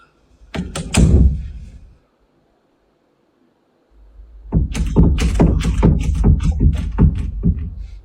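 Several heavy knocks and thuds land on a door in a quiet space during a ghost-hunting investigation, a short burst of loud impacts, then near silence, then a longer run of rapid banging.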